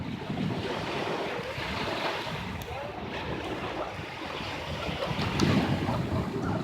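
Ocean waves wash onto a beach in a steady surging roar mixed with wind buffeting, continuous and fairly loud, swelling slightly toward the end.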